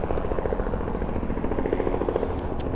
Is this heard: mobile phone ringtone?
no